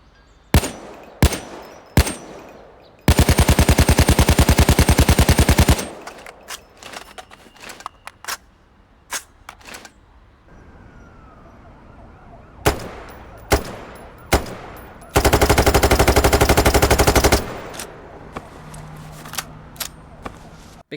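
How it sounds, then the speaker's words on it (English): Gunfire in the video game Payday 3: scattered single shots and two long bursts of rapid automatic fire, fairly soft and thin, with brief pauses and clicks between bursts. "how quiet and sort of not energetic the guns are at all."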